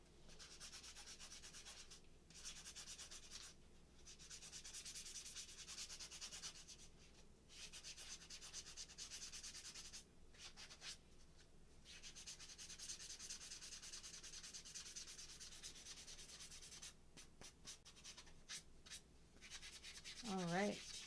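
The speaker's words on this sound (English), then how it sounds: "So it's those dots that I'm sanding." Soft, steady scratchy rubbing of fine sanding on a doll's surface, sanding off dots in repeated strokes with brief pauses, faint and close, with no talking.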